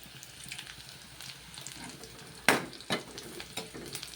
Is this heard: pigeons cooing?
no